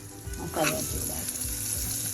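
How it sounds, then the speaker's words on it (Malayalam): Ground masala paste heating in a pan for an egg dish, giving a close, lively sizzle and crackle that flares up partway through, with a faint voice briefly over it. "മസാല ചൂടാക്കും"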